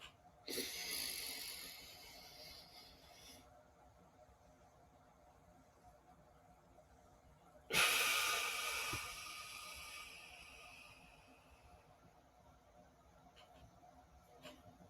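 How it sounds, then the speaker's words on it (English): Slow nasal inhalations during a box breathing exercise, two long airy breaths in through the nose, each lasting a few seconds and separated by quiet, heard close and alone. "we're going to go in for 4 seconds through our nose"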